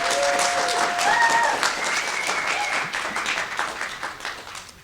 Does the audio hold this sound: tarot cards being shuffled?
no